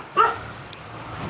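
A dog on a dairy farm with Jersey cows, goats and hens gives a single short, sharp bark close by, followed by quiet background.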